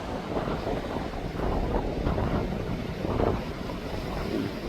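A small bangka boat travels over open sea near Sumilon. There is a low, churning rumble of water and hull, and heavy wind buffets the microphone steadily with no one speaking.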